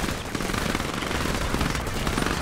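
Rapid rifle fire at a building in the strategy game C&C 3: Tiberium Wars, a dense, continuous loud burst of overlapping gunshots with no pauses throughout.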